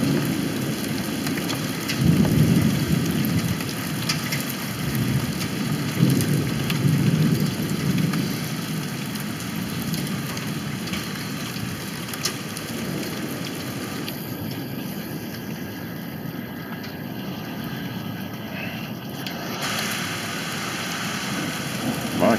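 Hail and rain pound down during a thunderstorm as a steady heavy roar that rises and falls slightly, with a deeper rumble early on and no talking.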